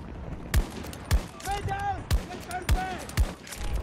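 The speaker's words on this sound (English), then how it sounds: "You really gotta be stationary when you shoot this gun." Gunfire from a weapon in a video game battle on the Hourglass map, with single heavy shots spaced about half a second apart, close and loud, over a busy background of game noise and chirping tones.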